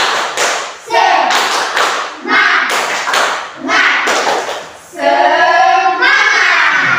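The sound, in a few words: classroom rhythmic spirit-clapping routine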